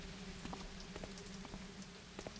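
Steady rain in a video game, a constant hiss of falling water with soft scattered drop ticks throughout, no voices.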